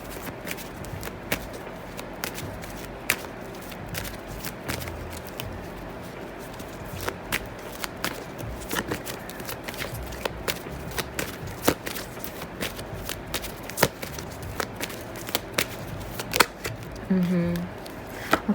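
Tarot cards being shuffled by hand give a long run of crisp, rapid riffling slaps and flutters at close range, repeating steadily throughout with a low murmur in the background.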